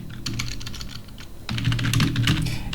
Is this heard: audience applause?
no